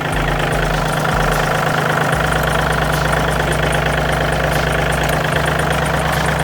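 A 2019 John Deere 3036E tractor with a Yanmar-type 39 hp engine idles up close, a loud steady low rumble that holds through the whole stretch with no talk over it.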